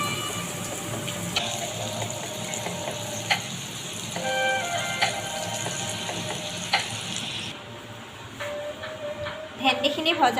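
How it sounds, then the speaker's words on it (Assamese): Okra frying in oil in a wok for a dahi bhindi dish gives a steady, close sizzling hiss that runs throughout, with a voice talking over parts of it. "এয়া ভেন্দিখিনি ভাজি আছোঁ।"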